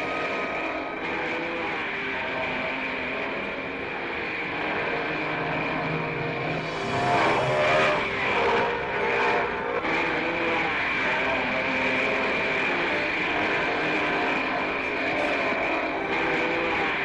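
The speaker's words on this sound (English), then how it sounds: "behind Fangio, Ascari, and González as they power through the opening lap." 1955 Formula 1 race cars powering through the opening lap of the Argentine Grand Prix, a continuous loud engine drone that swells midway as cars pass, heard from a distance.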